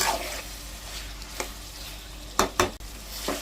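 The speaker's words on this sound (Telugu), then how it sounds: "ఇలా మంచిగా ఫ్రై చేసుకోవాలి." Garlic and chicken frying in oil with a steady low sizzle, broken by a few sharp scraping stirs near the end and no talking.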